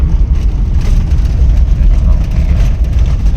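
Car engine held at 3,000 revs in first gear on a washed-out gravel road, a steady loud low drone with rumbling road noise throughout.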